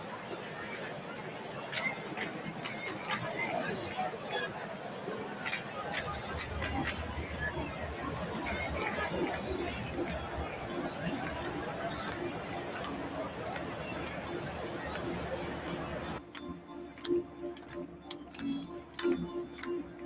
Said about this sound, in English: Oops, lower the crowd volume. Let me lower the crowd volume.